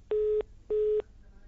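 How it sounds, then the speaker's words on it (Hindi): Telephone line disconnected tone: two identical flat electronic beeps of equal length, evenly spaced, clear and moderately loud over a faint hiss, with no speech. "फोन शायद उनका डिस्कनेक्ट हो गया है।"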